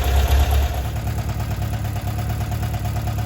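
A 1978 Volkswagen bus 2.0-litre air-cooled engine, freshly resealed with a new carburettor kit, idles steadily with a low, throbbing rumble, close and continuous, with no voices.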